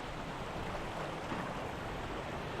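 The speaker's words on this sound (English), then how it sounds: "So aye, directly under the Force Crag waterfall." Force Crag waterfall in the Lake District roars as a steady broadband rush of falling water. It is heard from close beneath the falls and is unbroken throughout.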